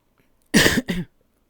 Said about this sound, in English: If you hear me cough like that